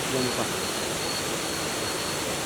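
Steady, dense rushing roar of the Kima Atas waterfall near Manado, heard up close and unbroken, with a brief murmur of voices near the start.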